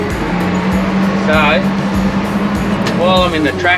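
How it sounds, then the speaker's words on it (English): A tractor engine runs on a farm as a steady low drone throughout, with a person speaking over it. "while I'm in the tractor here,"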